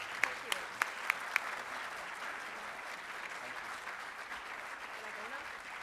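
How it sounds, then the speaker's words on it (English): An audience at a chess tournament's closing ceremony applauds, opening with a few loud distinct claps, then settling into a steady, fairly distant wash of clapping that continues to the end. "I think they deserve a big round of applause."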